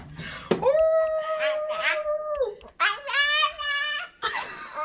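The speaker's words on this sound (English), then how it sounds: "That dog is possessed." A dog howls in long sustained, wavering tones, loud and close, with two or three drawn-out howls separated by short breaks and a brief yelp between them.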